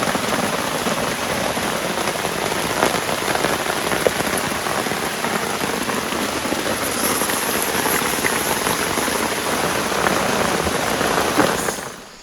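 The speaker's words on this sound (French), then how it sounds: "a été l'enfer avec l'orage, la pluie" Heavy rain pours steadily at night in the Amazon jungle, a dense unbroken hiss of drops drumming on surfaces, loud and close, before cutting off at the end.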